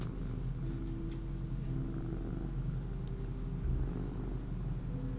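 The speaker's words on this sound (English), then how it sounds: "Do you guys still hear him purring?" A cat purrs continuously up close, a steady low throbbing rumble with no talking over it.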